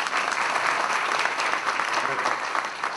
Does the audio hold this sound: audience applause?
yes